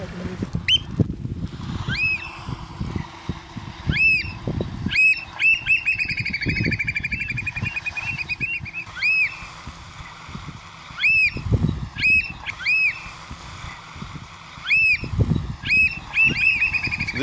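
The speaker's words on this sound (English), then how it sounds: "This is the oyster catcher territorial display call, which they use to drive other pairs out of their territory or to indicate pair bonding." Oystercatchers on the Louisiana coast give a territorial display call, a run of loud, repeated piping whistles in rapid clusters across many seconds, over wind and boat engine rumble with occasional talk.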